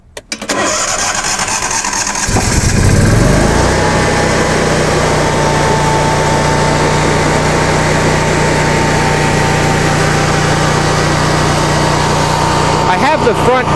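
A 2015 Cummins home standby generator cranks and starts, then settles into a loud, steady running drone with a constant hum close by.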